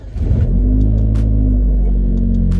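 A shop car engine cranks and catches almost at once, then settles into a loud, close, steady rumbling idle that holds to the end without any talk.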